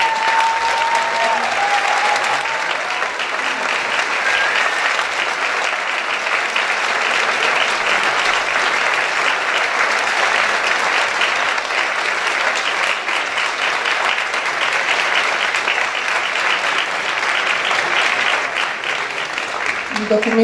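Long, sustained applause from a theatre audience in Ivrea, a dense, continuous clapping that stays steady and loud for the whole stretch.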